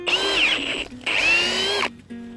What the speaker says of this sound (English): We'll put the drill on there